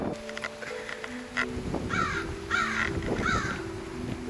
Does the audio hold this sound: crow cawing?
yes